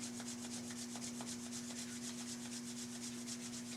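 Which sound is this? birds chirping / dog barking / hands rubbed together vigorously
hands rubbed together vigorously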